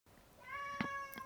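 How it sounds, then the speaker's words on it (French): A house cat gives one clear, drawn-out meow nearby, quiet but distinct, with a faint second cry just after it, heard indoors during a podcast recording. "le chat qui veut participer au podcast, visiblement"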